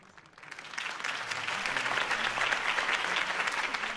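Applause from a sizable crowd in the video game Batman swells in from quiet and holds as a dense, steady wash of clapping, slightly distant.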